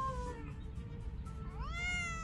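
Small abandoned kittens found among seaside rocks give a couple of thin, high meows, the clearest rising cry near the end, close and fairly faint over a low background rumble, with no talking.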